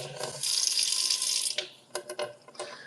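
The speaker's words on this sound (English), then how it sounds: "We'll just leave the tap to run so I can do that." A water tap runs in a steady, close stream that briefly breaks into uneven splashes and gurgles toward the end, with no speech.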